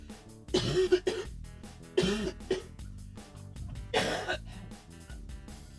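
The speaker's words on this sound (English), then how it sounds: "I want to apologize for my coughing and any weird, disgusting sounds that y'all hear coming out of me today" A person with a head cold coughs and clears their throat in several harsh bursts close to the microphone, separated by brief quiet gaps.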